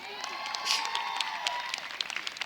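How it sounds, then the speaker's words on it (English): Graduates applauding at a college commencement ceremony, a dense patter of many hands clapping in a large hall with scattered cheers rising above it. "Give yourself a round of applause."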